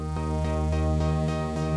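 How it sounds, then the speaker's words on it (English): A Korg Minilogue XD synthesizer holds a sustained, harmonically rich tone that pulses rhythmically under LFO modulation, about five or six even throbs in two seconds. It plays alone and close up. "you can hear that the LFO is giving you that kind of pulsing sound"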